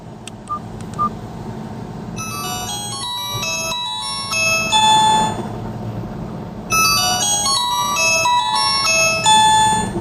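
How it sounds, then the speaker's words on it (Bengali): A red 2022 Nokia 105 Plus phone plays its ringtone, a bright, loud electronic melody of quick tones in two phrases separated by a short pause, alone without talk. "সেটিংসে যাওয়ার পর রিংটোন সাউন্ডটা আপনাদের একটু শুনিয়ে দেই"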